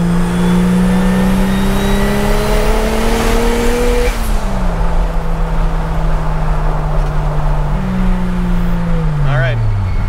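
A 2000 Ford Lightning pickup's supercharged engine drones loud and close, its pitch climbing under load, dropping at a shift, then rising again through the gears in a steady acceleration run.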